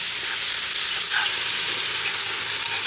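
Duck adobo frying in a pan while it is stirred, giving a loud, dense, continuous sizzle with faint scraping of the spoon, heard close up and alone.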